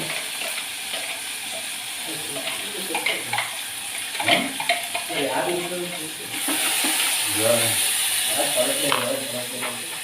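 Onions and tomato fry in a pan, giving a steady sizzle with stirring clatter in a home village-style kitchen, while a voice talks over it for much of the time.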